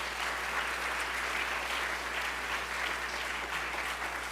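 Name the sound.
applause for the volunteers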